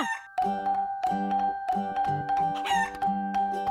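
A cartoon hen clucks in a bright, repeated pattern, with a steady tone running under the clucks, loud and close.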